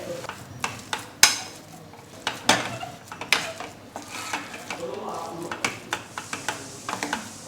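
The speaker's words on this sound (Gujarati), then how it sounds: "ફરી આપણે બધું જ મિક્સ કરી લઈએ" Idli stuffing of potatoes, lemon juice and coriander stirred in a pan, with a spoon scraping and clinking against the metal in irregular close strokes while a person talks.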